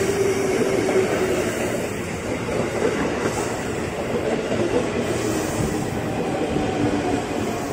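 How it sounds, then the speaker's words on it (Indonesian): KRL commuter train bound for Bogor rolls through Lenteng Agung station, a loud, sustained rumble with rhythmic wheel clatter and some metallic ringing, close by and continuous for several seconds without talking. "Nah, langsung saja ini komuteran tujuan Bogor."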